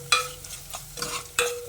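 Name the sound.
stirring chili powder and salt into a pot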